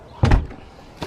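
A door opens with a dull thump and scrape, then after a brief pause a second quick knock or latch click as it shuts, close by and fairly loud with no talking.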